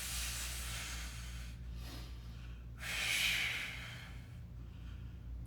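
A forceful breath pushed out during a stick mobility stretch, heard as a broad breathy hiss that swells near the middle and trails off, close and fairly loud over a steady low hum of room noise.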